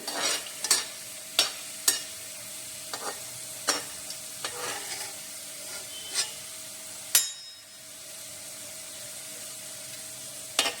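Garlic frying in a pan until golden red, a constant hiss of oil broken by repeated sharp scrapes and taps of a spatula, then the sizzle softens and steadies near the end, with no talking.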